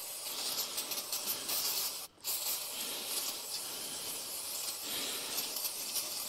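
Brake cleaner sprayed from an aerosol can onto a caravan wheel hub, a close, continuous loud hiss with one short break before the spray resumes steadily.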